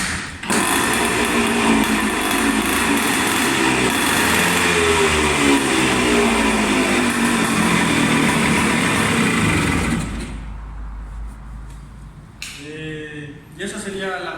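Go-kart engine with a manually controlled CDI runs with a loud, buzzing, revving drone and wavering pitch for about ten seconds, then cuts out, leaving quieter background sound and a few brief sounds near the end.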